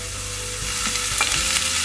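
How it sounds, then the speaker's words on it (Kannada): Chopped onions sizzling in oil in a pan, a continuous close hiss with a few soft stirring scrapes and no talk. "ಇದನ್ನು ಫ್ರೈ ಮಾಡ್ಕೊಳ್ಳೋಕ್ಕೆ ಒಂದು ಪ್ಯಾನ್ಗೆ ಹಾಕೊತಾ ಇದ್ದೀನಿ."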